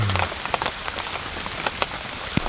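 Steady rain patters on surfaces outdoors in a wilderness camp, with scattered louder drops and a brief low hum at the start.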